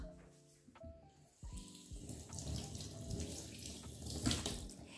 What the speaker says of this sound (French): Je vais rincer la coriandre.